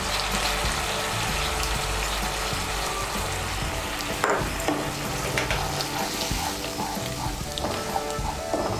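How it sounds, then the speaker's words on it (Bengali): A spice paste of ground spices and turmeric is stirred and fried in a pan, giving a dense, continuous bubbling sizzle with wet stirring noises close by. "সমস্ত মশলাগুলোকে ভালো করে মিশিয়ে নিয়ে মশলাটাকে এখন ভালো করে কষিয়ে নেব।"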